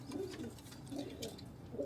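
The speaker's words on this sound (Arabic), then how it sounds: "جبت لك عرض بيع حمام جميل" Pigeons coo softly in a loft, several low throaty calls overlapping in a gentle, repeating rhythm, close by and alone without talk.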